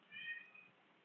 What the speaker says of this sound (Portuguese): Essa é uma gatinha de rua que eu peguei